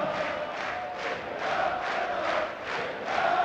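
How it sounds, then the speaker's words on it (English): A darts crowd at a European Darts Grand Prix quarter-final, Rob Cross versus Dave Chisnall, roars and chants in a big arena, with a rhythmic, pulsing swell of many voices. "the crowd clearly loving the dart"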